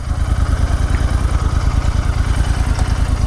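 A Royal Enfield Interceptor 65 twin fitted with Powerage aftermarket exhausts and a K&N filter idles nearby, a loud, deep, steady thumping beat with a slight clatter and an uneven rhythm.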